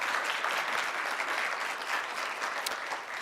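Audience at a panel discussion on an African American Episcopal historical collection giving a round of applause, steady moderate clapping from a gathered crowd, heard a little distant throughout.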